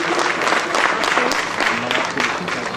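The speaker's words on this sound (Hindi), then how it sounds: "एक बार डॉक्टर नीरज जैन जी के लिए जोरदार तालियां" Loud applause from an audience at an awards ceremony, steady clapping filling the whole moment with some voices mixed in.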